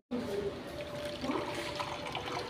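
Ground coconut paste mixed with water is poured through a filter to draw coconut milk for payasam, a close, steady splashing and trickling of liquid that runs continuously after a sudden start.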